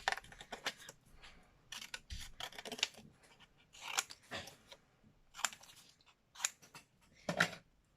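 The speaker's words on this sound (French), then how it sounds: "Je vais grossièrement découper pour moi voir ce que ça va faire." Scissors roughly snipping coloured paper for a July moodboard, a close, quiet series of crisp irregular cuts, some in quick bursts and others spaced apart.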